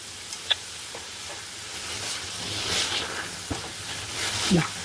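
Fresh spinach sizzles and hisses as it is stirred in a large pan, with a few sharp spoon knocks against the pan and a soft, rising frying noise.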